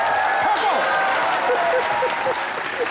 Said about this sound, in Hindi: उनके एक बार जोरदार ताली।